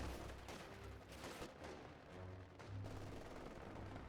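Kubelwagen and MG42 machine-gun fire rattle through a Company of Heroes 2 battle, bursts of small-arms shots layered over rumbling explosions and low battlefield noise, steady and fairly distant.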